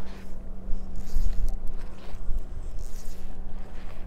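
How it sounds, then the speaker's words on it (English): Wind blows across an outdoor spot near water with small boats, a steady rumbling gust noise with a low hum underneath, loud and continuous for the whole stretch with no talking. "the wind's blowing"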